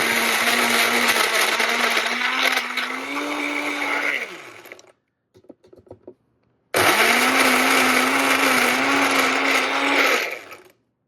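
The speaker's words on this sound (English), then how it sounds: "So it is crushing the ice" A Bella Rocket blender crushes ice: a loud, close motor whine that runs for several seconds, drops out to a few clattering knocks, then roars back at full strength before cutting off.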